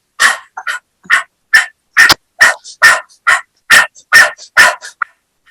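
A yogi imitates a dog's rapid panting breath in a hatha yoga exercise, a quick run of about a dozen sharp, breathy huffs in an uneven rhythm, close and loud with no talk, sounding almost like short barks.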